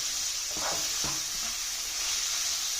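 Vegetables frying in a pan give a steady close sizzle, broken by a couple of short scrapes as they are stirred.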